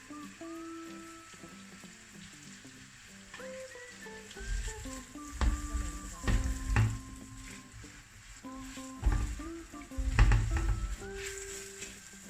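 Onions and tender garlic shoots fry in a pan with a soft sizzle, punctuated by bursts of stirring and scraping thumps, with faint music playing underneath.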